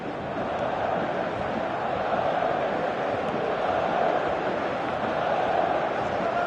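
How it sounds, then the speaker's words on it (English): Stadium crowd noise from a PES 2018 football video game, a dense steady roar of cheering and applause that swells slightly and continues throughout without pause. "Crowd appreciates good football all round there"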